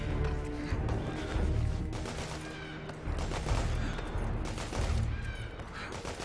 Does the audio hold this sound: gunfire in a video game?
yes